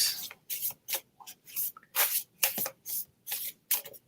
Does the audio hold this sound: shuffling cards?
yes